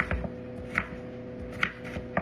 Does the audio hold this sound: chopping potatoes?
yes